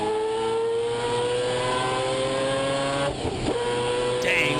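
Onboard a Mazda 787B race car lapping Le Mans, the engine screams with a loud, steady high-pitched whine, broken near the end by a quick rev change as the driver shifts.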